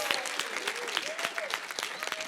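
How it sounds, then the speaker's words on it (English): Audience applause for a co-host at a closing ceremony, moderately quiet and steady, with a voice speaking over the clapping. "Round of applause."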